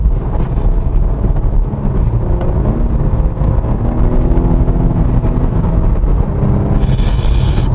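A Volvo S60 Inscription sedan accelerates in dynamic mode, its engine note rising and settling through gear changes under steady road and wind noise from inside the cabin, with no talking.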